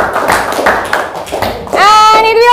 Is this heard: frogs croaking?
no